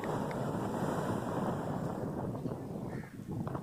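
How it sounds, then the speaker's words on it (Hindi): Wind and waves at the Karachi seashore make a continuous broad rushing wash, steady and fairly close, with no talking over it. "समंदर तो है बस"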